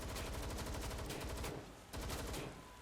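Rapid machine gun fire in Watch Dogs Legion, loud dense bursts of repeated shots filling the first half, a brief lull, then another sustained burst before trailing off.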